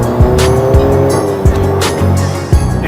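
A VW GTI fitted with a JB4 tune and new downpipe accelerating, loud engine roar from inside the car with a rising intake whistle and repeated surges as it revs.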